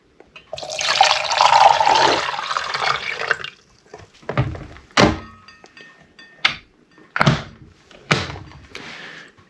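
Water pours in a steady stream into a K-Cup coffee maker for a few seconds, then a series of sharp plastic clicks and thunks follow at irregular intervals.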